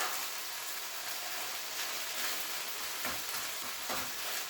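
Fajita filling sizzling and frying in a pan, a steady soft crackle with a few small stirring bumps; no talking.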